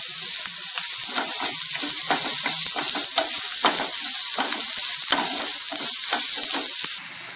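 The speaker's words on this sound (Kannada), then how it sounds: "ಒಂದು 2 ನಿಮಿಷ ಇದನ್ನು ಫ್ರೈ ಮಾಡೋಣ" Chopped ridge gourd and onion frying in a pan, a loud steady sizzle broken by repeated scraping strokes of stirring, then dropping abruptly quieter near the end.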